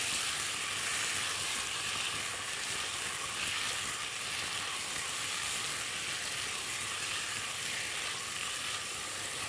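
Seasoned oxtail (ekawi) with salt and pepper sizzles steadily in a hot pan while being stirred, a continuous close, loud frying hiss with no voices.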